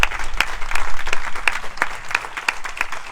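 A church congregation claps at a Sunday worship service, loud rhythmic applause with sharp repeated hand claps and crowd noise throughout.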